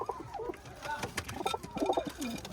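Soft, low cooing from Benaras pigeons repeats under faint background noise, with a few light clicks and rustles nearby, at dusk.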